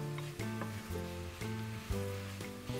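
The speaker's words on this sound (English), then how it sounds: "Saute the ingredients until the onions are almost translucent." Spring onions, capsicum and bok choy sauté in a pan for vegan cauliflower fried rice, giving a steady close sizzle with tonal kitchen hum and occasional stirring knocks.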